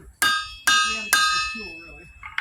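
A blacksmith strikes hot iron three times with a hammer, each blow a sharp ringing metallic clang that decays slowly, followed by softer knocks and a brief voice at the end.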